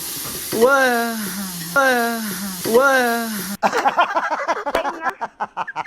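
Curd is poured into a pot of chicken biryani and sizzles in sharp, crackling bursts. A voice is heard first, before the sizzle.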